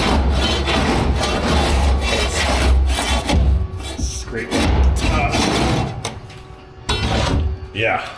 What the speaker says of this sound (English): Scrape the top.